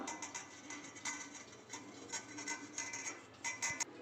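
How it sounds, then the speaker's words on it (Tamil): Cake flour and dry ingredients sifted together in a home kitchen, giving a steady close rasping and rubbing with light ticking taps of the sieve throughout. "இப்போ நம்ம இது எல்லாத்தையும் சேர்த்து சலிச்சுக்கலாம்"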